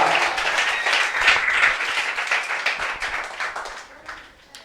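A church congregation claps together in a thick, lively burst that keeps going for several seconds before gradually thinning and fading out.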